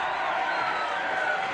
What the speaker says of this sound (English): Applause for Lewis Pullman and an air horn.